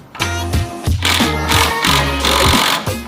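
Pneumatic impact gun spinning off the 12mm top bolts on a Mazda 3, heard as a quick series of loud, close rattling bursts with short pauses between them.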